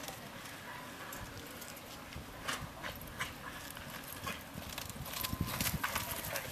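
Hooves clip-clopping in a high school rodeo arena, a gray horse among the riders, with irregular thuds and scuffs over steady crowd and arena background noise that grows busier toward the end.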